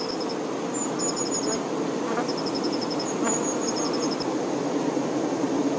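Honey bees buzz steadily inside a hive, a dense continuous hum with no voices, while a few faint high chirps sound intermittently over it.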